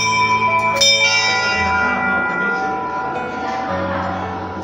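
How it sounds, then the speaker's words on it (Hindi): A temple bell rings out with a sharp strike followed by long, shimmering resonant tones that slowly decay, close and clear at the hillside Parasnath water temple (jal mandir), with faint background ambience. "इधर भी एक घंटी है"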